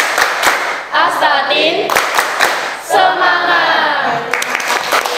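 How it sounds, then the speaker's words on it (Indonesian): A chemistry class performs a rhythmic 'tepuk semangat' clapping chant. Sharp, evenly spaced hand claps ring out close and loud, interleaved with group voices chanting along in time. "Oke, tepuk semangat."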